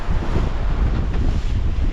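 Strong wind roars and waves crash around a sailboat in rough seas off Key West, a dense, loud, constant rush with heavy low-end buffeting across the microphone.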